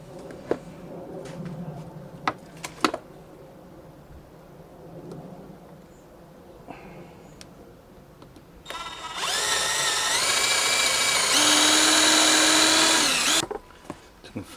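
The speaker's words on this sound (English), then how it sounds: "So I'm just going to drill the screw holes now for this block." Power drill boring screw holes into a wooden base block for a leatherworker's stitching clamp, a loud steady whine lasting about four seconds with a pitch shift partway, after scattered quiet workshop knocks and clicks.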